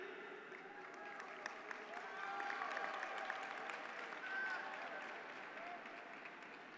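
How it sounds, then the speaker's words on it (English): Commencement audience applauding, a broad, even wash of many hands clapping that is fairly faint and distant, with some crowd murmur mixed in. "There was definitely more applause than the amount of people that were with us in Vienna"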